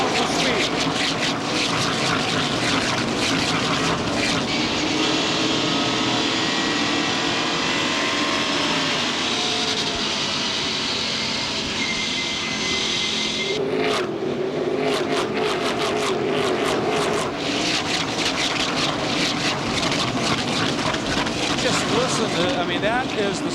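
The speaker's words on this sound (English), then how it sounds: "that is the sound of some cars running incredibly fast by a microphone" Race cars at Salem Speedway thunder past a trackside microphone in a continuous loud roar, a brief dip midway, then more fast passes with engine drone and rushing air; a commentator's voice can be heard over the noise.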